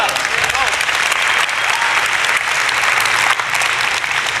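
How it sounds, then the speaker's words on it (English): Church congregation applauding steadily throughout, a dense sustained clapping from a full room with a few faint voices mixed in. "I was wondering if y'all was going to clap."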